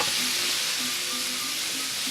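Minced garlic from two whole cloves sizzles steadily in a pan on the stove, a close, even frying hiss with faint scrapes of stirring and no talk.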